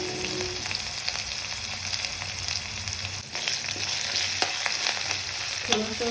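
Cumin with crushed ginger, garlic and green chilli sizzling in a hot tempering for kothimbir vadi, a steady close fry hiss with occasional spatula taps and scrapes, no talking.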